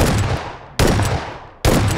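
Suppressed gunfire in PUBG Battlegrounds rings out as three evenly spaced, punchy shots, each with a fading tail, close and fairly loud, with no voice over them.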